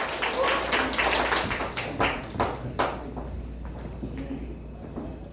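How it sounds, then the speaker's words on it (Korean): An audience at a poetry book launch in an arts hall claps loudly and steadily, then the clapping thins into scattered claps and fades, with a faint voice underneath. "큰 박수 부탁드리겠습니다"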